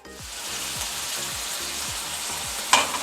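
Beans, eggplant and pointed gourd cook in a covered pan with a steady close sizzle and bubbling hiss, ending in a sharp clatter near the end.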